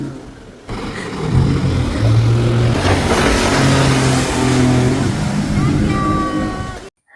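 A speedboat passing a houseboat on the Alappuzha backwaters, its engine roaring loud and close at high speed over water rush, with people talking.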